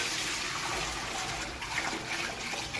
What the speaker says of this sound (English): I'm just gonna put water in my big pot here